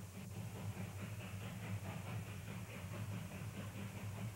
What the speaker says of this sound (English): you're on board a narrow-gauge freight train from Gunnison, Colorado to the mining town of Crested Butte